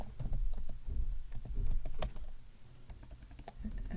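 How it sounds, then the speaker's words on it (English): Rapid, uneven keystrokes clatter on a small computer keyboard for several seconds, close and fairly quiet, with irregular bursts and short pauses and no talking. "can't type on this little keyboard either"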